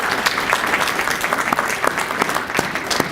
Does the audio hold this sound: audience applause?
yes